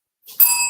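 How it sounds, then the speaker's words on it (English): A single bell is struck once, a bright ringing ding with a soft onset that then sustains and slowly decays, close and clear. "Now you can ring the bell"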